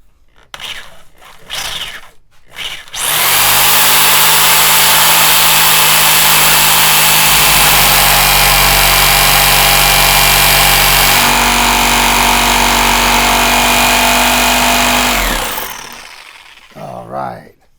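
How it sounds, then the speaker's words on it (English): A Sawzall reciprocating saw cuts through staples in a leather couch armrest, a loud sustained buzzing whine that holds steady for about twelve seconds, with brief rustling before and after. "If I can get my Sawzall blade in there, I'll be able to cut these staples"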